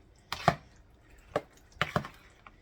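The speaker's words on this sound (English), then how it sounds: "we're going to give that a stir and get it all mixed up good together" Pre-cooked hamburger and mixed vegetables are stirred in a pot, giving a few separate knocks and scrapes of a spoon in uneven bursts, close and fairly quiet, with no talking.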